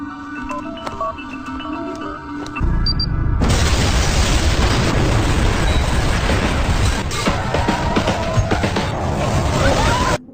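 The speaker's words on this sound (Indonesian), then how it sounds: "Nine langsung meledakkan kantor kepolisian tersebut." A police office blows up in the anime Zankyou no Terror, a sudden loud, sustained explosion whose roar and crackling debris fill the clip after a quieter opening, with no talking.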